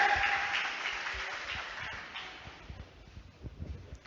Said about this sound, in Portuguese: Vamos aplaudir o nosso Deus bem forte, em nome de Jesus